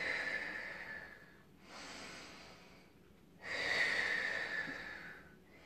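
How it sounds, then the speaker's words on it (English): Slow, deep breaths during a relaxation exercise, two long airy exhalations with a quiet pause between, close and alone. "And then just taking some nice deep breaths."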